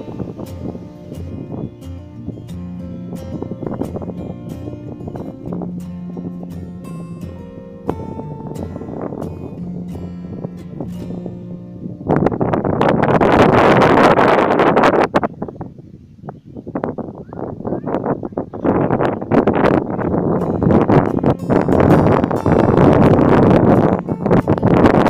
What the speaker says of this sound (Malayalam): കാറ്റിൻ്റെ ശബ്ദമാണ് കേൾക്കുന്നത്.